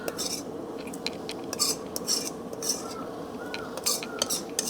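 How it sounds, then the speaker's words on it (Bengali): Mutton stirred with fried ginger-garlic paste in a pot for mutton biryani, with repeated close metallic scrapes and clinks of a spatula against the pot over a faint low sizzle. "মটনটা হালকা একটু নাড়িয়ে দেবো"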